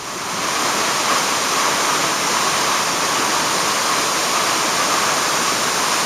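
Queen Mary Falls waterfall, water plunging onto rock with vegetation, a loud continuous broadband rush that stays steady and close throughout with no voices.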